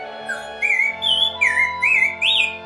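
A series of six clear, warbling whistles from a Lamy warbler bird whistle imitating an oriole or grosbeak, each short and rising, close and fairly loud in a steady rhythm.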